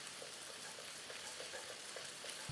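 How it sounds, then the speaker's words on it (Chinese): Beaten egg whisked rapidly in melted pork lard over low heat for egg fried rice, giving a steady, dense crackling sizzle that stays even throughout, close and alone with no talking. "下了鸡蛋之后，你就用你最快的速度去搅它啊"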